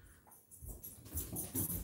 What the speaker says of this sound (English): sorry, the dog.